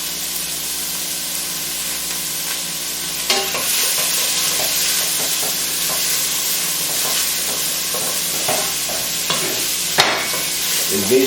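Crushed garlic, celery and onions sizzle steadily in a pan with oregano, a continuous close frying hiss broken by occasional stirring scrapes and clinks.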